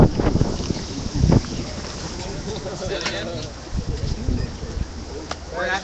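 Strong wind blows outdoors at a protest camp in Mountain View, California, buffeting the microphone in loud rumbling gusts while people talk nearby.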